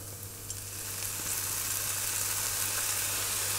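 Onions sizzling in olive oil, a continuous bright hiss of frying close by, gently swelling after the first second, with light stirring and a low steady hum underneath.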